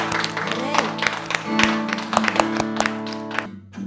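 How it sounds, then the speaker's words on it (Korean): Congregation at a Korean church worship service clapping in steady rhythm with music, strong regular claps over sustained singing and instruments, ending in a brief fade. "우리 영광의 박수로 주님께 영광 올려드리도록 하겠습니다."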